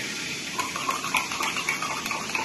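Water poured into a pan of fried zucchini with garlic, making a steady close hiss and gush with small crackling splashes throughout.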